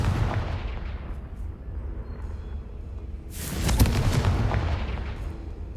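A Confringo blasting spell explodes in Hogwarts Legacy, a broad booming burst rising out of low rumbling background noise and then trailing off slowly.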